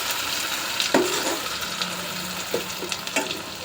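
Paneer frying in a pan over a low flame, a soft steady sizzle with a few clattering stirs and scrapes near the start and end.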